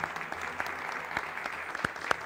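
A studio audience on a Turkish talk show claps at a moderate level, steady patter with a few sharper claps near the end, no talk over it.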